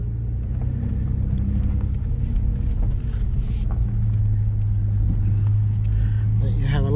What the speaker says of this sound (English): we're in the car about to leave, and here we go